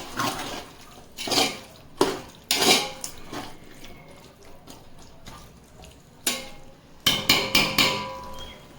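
A lid goes onto a pot of chicken biryani on medium flame with several sharp metallic clanks and knocks, loud and close, spread unevenly with a quick cluster at the end and no talking.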